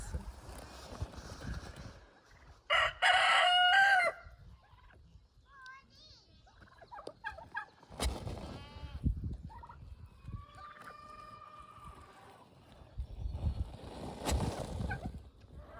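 Farm turkeys, blackened from rolling in ash, gobble and call alongside chickens in a spring farmyard, with a loud burst of gobbling near the start and scattered softer clucks and calls after, amid faint background noise.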